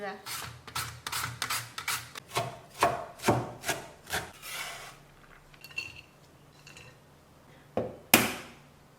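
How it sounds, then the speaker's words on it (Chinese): A carrot is scraped over a grater into fine shreds, a run of about a dozen rhythmic, close rasping strokes. Sparse scrapes follow after a pause, then one final loud stroke. "再搭配一根胡萝卜，擦成细丝。"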